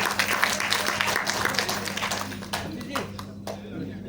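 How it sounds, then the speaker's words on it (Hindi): Audience applause at a training session, a burst of clapping from a group of people that gradually thins out and fades, with voices talking over it. "जबरदस्त ताली सर"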